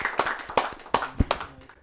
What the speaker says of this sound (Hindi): आइए जोरदार तालियों से उन्हें बुलाते हैं।